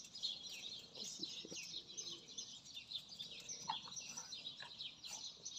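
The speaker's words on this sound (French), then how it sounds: "Vous entendez les oiseaux? C'est trop bien." Birds chirp and sing outdoors in a garden setting, a steady run of high, bright calls continuing throughout at moderate distance, with faint low rustling underneath.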